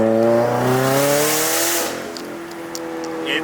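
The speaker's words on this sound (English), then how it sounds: "So we're finally driving the car again." A Subaru WRX is driven close by, its engine revving up through climbing harmonics and then settling into a steady lower drone, loud and continuous with no talking.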